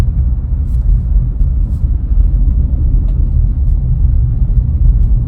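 A Subaru Outback Wilderness drives a sheer-ice dump road in severe winter conditions. A continuous low road rumble and engine drone stays close and steady throughout, with faint scattered ticks above it.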